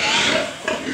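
Pigs at a farm let out a loud, close burst of grunting oinks that lasts about a second.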